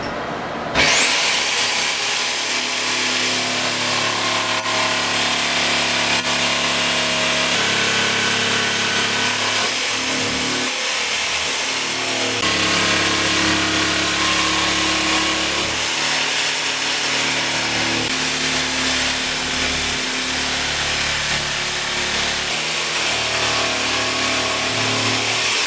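A jigsaw cuts through an onyx panel edged with blue tape, a loud, steady, close buzzing rasp that runs without a break, its pitch wavering slightly as the blade works through the stone.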